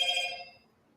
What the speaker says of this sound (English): I should have turned my phone off.